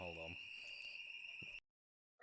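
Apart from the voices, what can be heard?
fire alarm sounding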